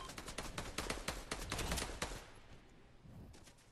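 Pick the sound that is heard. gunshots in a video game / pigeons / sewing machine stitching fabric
gunshots in a video game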